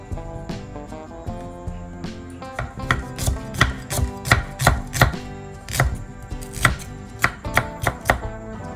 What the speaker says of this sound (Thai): เริ่มจากหั่นหอมเลยครับ